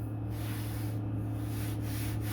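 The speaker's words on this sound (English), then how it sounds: "we're just going to use the T-bar sander, sanding block, and we'll clean this edge up like so" A T-bar sanding block is rubbed lightly along the edge of a model airplane's horizontal stabilizer in a steady, continuous scratchy hiss, with faint rhythmic strokes over a constant low hum.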